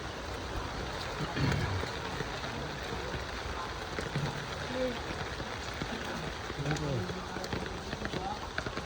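Steady rain hiss fills the clip, with faint voices talking beneath it and occasional footsteps or splashes.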